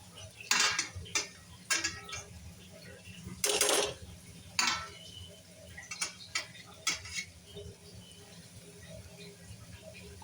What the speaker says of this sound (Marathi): आणि छान परतून घेऊया